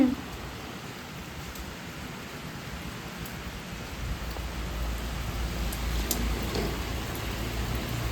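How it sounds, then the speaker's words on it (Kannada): Steady rain hisses continuously, a dense even wash of drops that swells slightly louder partway through. "ಏನದು ಮಳೆನಾ"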